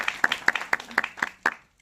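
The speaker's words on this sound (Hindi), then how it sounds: "इन सब के लिए जबरदस्त तालियां।" Audience applause at a leadership meeting: a handful of sharp, evenly spaced claps, about one every quarter second, fairly quiet and alone with no talk.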